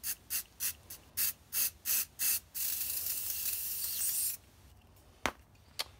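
A can of spray paint hisses onto a phone case decorated with tape, first in seven short rhythmic bursts and then in one long, continuous spray, followed by a few faint taps.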